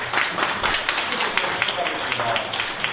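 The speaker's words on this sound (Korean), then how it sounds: "한번 일어나실 때 한번 큰 박수 한번 환영하도록 하겠습니다" A church congregation claps together to welcome newcomers at a Sunday service, a dense, continuous patter of hands in a room, with a voice speaking over it.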